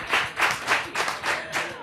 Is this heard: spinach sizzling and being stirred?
no